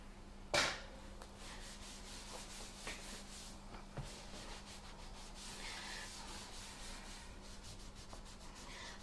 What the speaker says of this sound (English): We'll just scrape it down into the bottom of the bowl